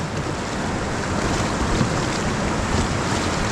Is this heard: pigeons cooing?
no